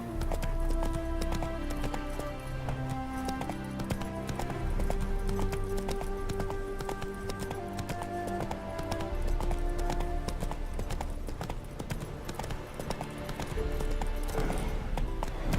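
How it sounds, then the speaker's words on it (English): Roach, Geralt's horse in The Witcher 3, trots along with a steady clip-clop of hooves under a sustained musical score, the rhythmic hoofbeats continuing for the whole stretch. "Spooking my horse."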